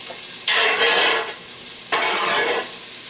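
Chopped onion and pepper hit a hot pot for venison chili, giving two loud bursts of broadband hiss and crackle, each swelling sharply and easing off, with no talking.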